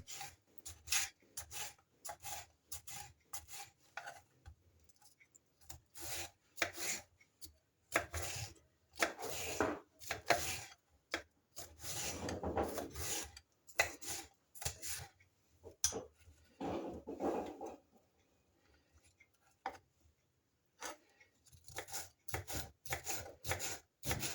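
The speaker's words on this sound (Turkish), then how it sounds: "Kapya biberi doğradım." Rapid knife chopping of red bell pepper on a cutting board, quick rhythmic taps in runs with short pauses, close and fairly quiet, no voices.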